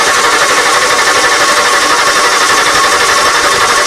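The engine of a 1994 Ford F150, choke held partially shut, makes a loud, steady, rough running roar that fills the whole short stretch.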